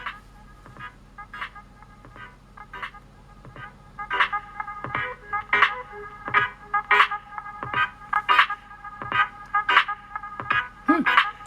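Music plays from a phone through vintage Goodmans Active 75 desktop speakers that have a crackly volume control. Bright, tonal notes come in a regular rhythmic pulse that grows louder partway through, with no talk over it.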